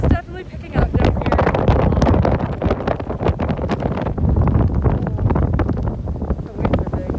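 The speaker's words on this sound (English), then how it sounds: "Oh, the wind is definitely picking up down here." Strong wind at sea ahead of Hurricane Michael, loud gusty buffeting that batters the microphone in a continuous roar, with voices speaking over it.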